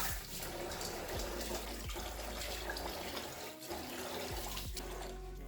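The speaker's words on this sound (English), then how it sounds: "Just like you heard the sound in this pot." Ofada stone rice is washed in a pot with water, giving a steady swishing, sloshing wash with faint gritty rattles of stones against the pot, fairly soft and continuous.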